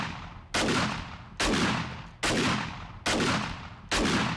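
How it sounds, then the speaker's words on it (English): Auto shotgun in the video game 7 Days to Die fires five loud, evenly spaced blasts about a second apart, each with a long reverberant tail, with no talking. "I will demonstrate the fire rate"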